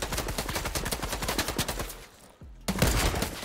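Rapid, loud automatic gunfire fills a one-versus-one video game match, with continuous close shots that break off briefly before a heavier blast lands near the end.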